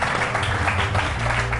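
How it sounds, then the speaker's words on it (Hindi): Studio audience on a morning TV show claps in a short, lively burst, dense handclaps over a low background hum, fairly close and loud with no speech on top. "इस पे तालियां होनी चाहिए।"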